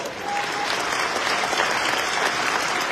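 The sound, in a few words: audience applause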